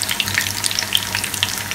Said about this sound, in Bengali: প্রথমবার এরকম ভেজে আমি এটাকে তুলে নিচ্ছি, পরে আবার এটাকে একবার ভাজবো।